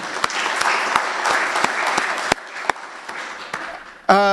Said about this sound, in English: I want to give one more round of applause to all of our speakers